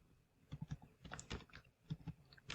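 Quick, light keystrokes on a computer keyboard tap out short irregular bursts, close but quiet, with no talking.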